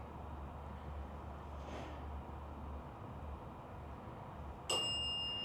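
A bell on a ghost hunting device gives a single bright ding near the end, its clear ringing tone sustaining over a steady low background hum, with no talking.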